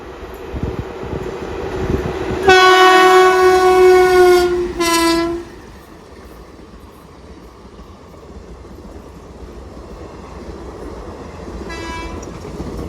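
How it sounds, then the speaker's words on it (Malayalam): The Tirunelveli–Palakkad Palaruvi Express passes on Kerala's Ernakulam–Thrissur line, sounding a loud, sustained two-part horn blast, then fading into a rumbling rush with a brief distant toot near the end. "തിരുനെൽവേലി പാലക്കാട് പാലരുവി എക്സ്പ്രസ് ആണ് പോകുന്നത്."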